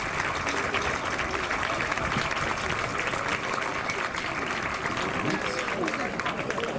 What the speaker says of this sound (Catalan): Un fort aplaudiment per la claustra Fai Vallverdú